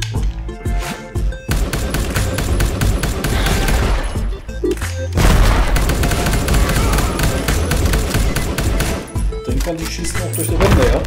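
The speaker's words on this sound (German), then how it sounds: "Die schießen auch durch die Wände, ja?" Dense, loud bursts of gunfire fill the scene as enemies shoot through walls in the video game Jydge, rapid rattling volleys running almost continuously with brief gaps.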